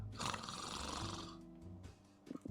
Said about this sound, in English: He's snoring and he says, "Just 5 more minutes,